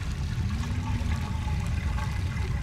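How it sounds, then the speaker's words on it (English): A video game toilet flush from Super Meat Boy gives a steady, loud rush of swirling water with some gurgling and trickling, and it carries on through the whole stretch without any talk. "Toilet flush."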